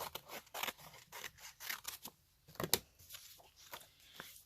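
Scissors snip through a folded hardcover book page being repurposed into a junk journal, a close series of crisp, irregular cutting strokes with brief pauses between them.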